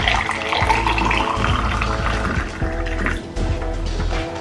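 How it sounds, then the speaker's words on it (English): Hot water poured into a cup in a kitchen, a steady gurgling stream with a tone that rises as the cup fills, close and fairly loud, with a brief break near the end. "Now I'll bring my cup, hot water."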